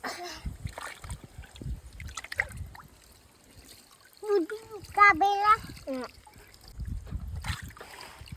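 Water splashes and trickles as a papaya is rinsed at a village water tank, with intermittent splashing bursts under frequent close conversation and a voice.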